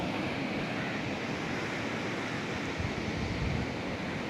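Ocean surf on Palolem Beach in Goa, India, a steady unbroken wash of breaking waves with wind noise over the microphone, loud and continuous throughout with no voices.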